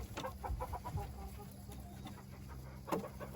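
Chickens, including Frizzles, cluck in short bursts nearby, with scattered scratchy movement noise and a faint steady hum.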